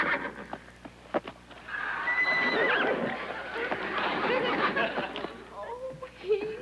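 A horse whinnies and neighs in a sitcom scene, a drawn-out call rising over nearby voices that talk around it, with a few thuds and some quieter stretches before and after.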